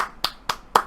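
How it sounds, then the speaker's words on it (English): Three sharp hand claps in even rhythm, each about a quarter second apart, crisp and close with quiet gaps between. "Let's clap."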